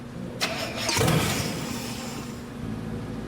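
Classic car engine with a bad fuel pump, no fuel reaching the carburetor, cranking over in a steady whirring churn that rises briefly but never catches, close and loud, with no talk.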